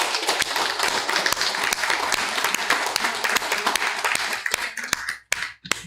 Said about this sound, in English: Let me hear a round of applause for that.